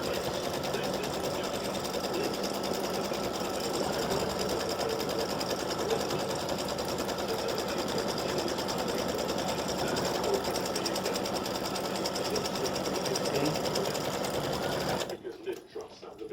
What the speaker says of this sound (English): Tack down my fabric to the stabilizer, so hopefully it won't move.